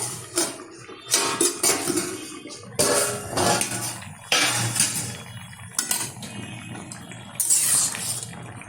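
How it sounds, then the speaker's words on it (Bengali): Lid lifted off a simmering pot of fish curry with potato and taro, giving clinks and clanks of metal cookware with a watery bubbling bed, repeated clattering bursts close by. "ঢাকনাটা তুলে দিচ্ছি"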